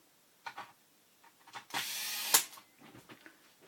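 Hios CLF 6500XH electric screwdriver drives a screw, a short close whir of about three-quarters of a second ending in a sharp click, framed by a few faint handling knocks before and after.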